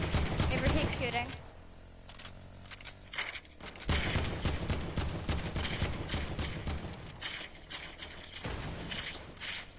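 Dense, loud gunfire rattles almost nonstop through a battle royale video game fight, with rapid bursts, brief lulls and mechanical clicks, and voices faintly mixed in.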